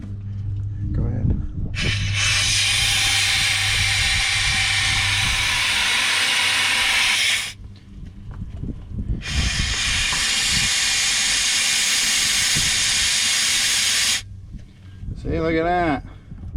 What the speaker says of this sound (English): Compressed air is your friend.